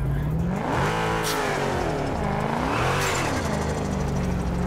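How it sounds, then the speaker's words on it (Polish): A Ford Mustang V8 fitted with a turbo in the racing game Drive Unlimited, heard from a hood camera. The engine revs up and down repeatedly over a steady loud drone, with a rising and falling whine. "A tam będzie turbinkę słychać."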